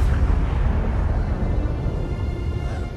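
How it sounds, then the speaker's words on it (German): A heavy, rumbling blast from the Death Star II exploding in Star Wars Battlefront 2 fills the whole stretch, a dense, low roar that stays loud throughout with no voices. "Das war der Todesstern 2, der gerade explodiert ist."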